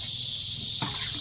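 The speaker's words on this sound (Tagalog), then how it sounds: "Tumutunog ba yung ating mga kuliglig sa tabi ng bahay" Crickets chirp beside a house at dinnertime, a steady high continuous trill filling the clip at close range, with a brief low thump and a faint clatter over it partway through.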